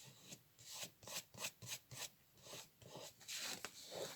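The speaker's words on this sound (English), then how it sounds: "I'm just rubbing off some glue." Glue is rubbed off paper in a steady rhythm of soft, close, raspy scrubbing strokes, about a dozen back-and-forth rubs, faint and free of speech.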